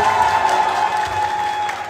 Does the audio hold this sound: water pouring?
no